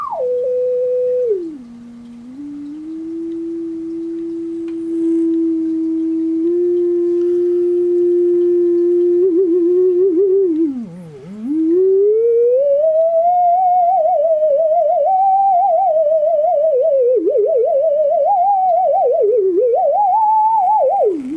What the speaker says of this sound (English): with a good sine wave, when you get it in the middle frequency range